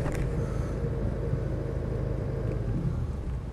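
A Land Rover Discovery 300Tdi with a five-cylinder-era diesel feel drives along, a steady low cabin rumble and engine drone, fairly quiet, with no voices over it.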